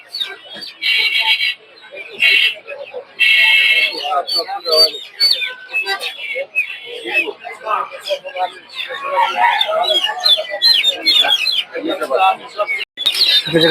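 Guinea fowl and chickens at a Tongi poultry market give off a dense stream of clucks and chirps, with a few louder, longer calls near the start and people talking over the birds.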